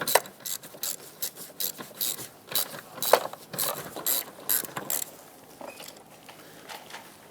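A ratchet wrench turns off a 12mm master cylinder mounting nut on a Mazda 6, quick rasping clicks in short repeated strokes, close and moderately quiet, easing off toward the end.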